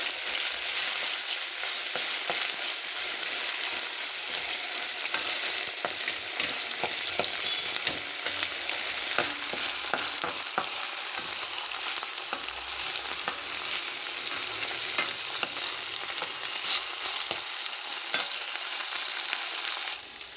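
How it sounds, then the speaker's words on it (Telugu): Masala sizzles steadily in hot oil as it fries for a wedding-style kurma, with a continuous bright hiss and occasional stirring scrapes. No voices are heard. "మసాలా అంతా వేయించుకుని చేస్తే బాగుంటుందండి ఈ కుర్మా పచ్చి మసాలా కంటే కూడా అందుకని వేయిస్తున్నాను"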